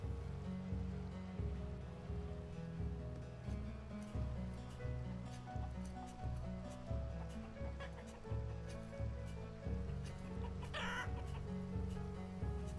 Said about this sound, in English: So the chickens are in there.